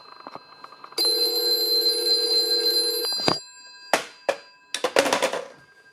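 A Western Electric telephone bell rings for about two seconds, bright and close, after a few light clicks, followed by several sharp handling clatters and knocks as the receiver is lifted and set down.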